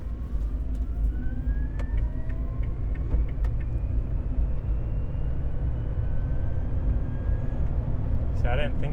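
An Electra Meccanica SOLO single-seat electric car rolls through a U-turn, with a steady low road rumble and faint rising motor whine inside the cabin, and a few clicks near the end.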